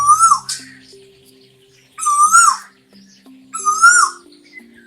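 A male Asian koel calls three times at regular intervals, each a clear rising whistled note followed by a rapid warbling burst, fairly close and loud against a quiet background.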